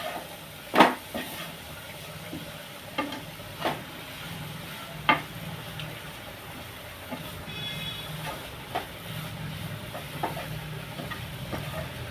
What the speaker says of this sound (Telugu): కలుపుకొని మళ్ళీ రెండు నిమిషాలు మగ్గించుకోవాలి